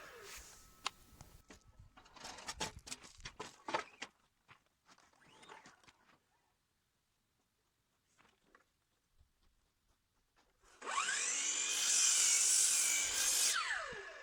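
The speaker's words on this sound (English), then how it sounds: "So I'm cutting the rafters" A saw cuts wooden rafters for the roof of a strawbale toolshed: scattered knocks and handling noises of wood, a quiet pause, then a loud, steady whine of the saw cutting through the wood for about three seconds.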